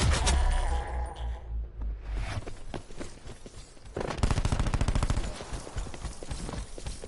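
Rapid gunfire in the multiplayer mode of the video game Call of Duty Black Ops 4, bursts of shots crackling in quick runs amid in-game clatter and movement, loud and steady through the middle of the clip.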